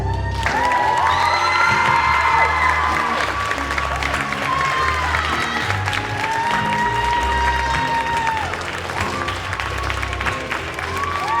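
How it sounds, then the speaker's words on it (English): Loud, sustained applause from a large crowd at a high school Black History program for student performers, with cheers and whoops mixed in, continuing without a break throughout. "Please give a round of applause for all the student performers."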